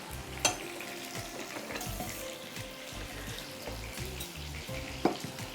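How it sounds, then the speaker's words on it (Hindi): White sesame seeds roasting in a pan, a soft continuous crackle and sizzle with occasional light scrapes and two sharp clinks, close and fairly quiet with no voices. "सफ़ेद तिल हैं जिसको हमें भूनना है, इसको भून लेते हैं।"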